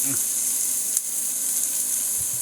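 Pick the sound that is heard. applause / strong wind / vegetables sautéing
vegetables sautéing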